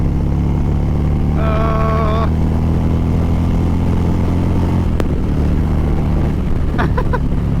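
An Indian ThunderStroke 116 motorcycle fitted with a Lloydz 585 cam runs with a loud, steady engine roar throughout, accelerating hard, with brief tonal whines and a sharp transient breaking through the continuous drone.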